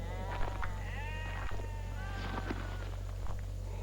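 A flock of some thirty sheep resting with a shepherd on a sun-scorched plateau, bleating repeatedly in overlapping wavering calls at moderate distance over a steady low drone, with occasional soft footsteps.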